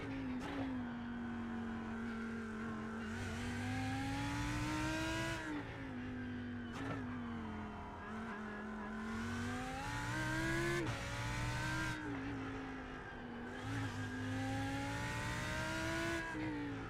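Race cars accelerating in the iRacing simulator, engines revving loudly and continuously with repeated gear-shift dips and rising pitch, several cars close together, with no talk.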